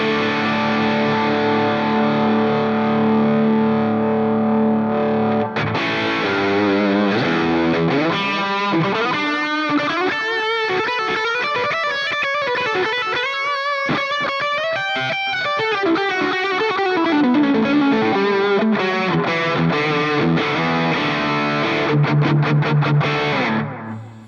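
An electric guitar with humbuckers played through a Two notes Genome drive effect rings out loud and distorted, with sustained chords and busy melodic lines carrying a delay-like trail.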